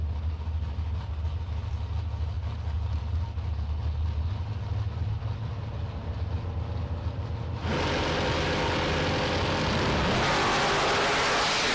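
Drag race cars at the line including a Pontiac Firebird, a loud steady engine rumble that suddenly jumps to a roaring full-throttle launch partway through, with no talking.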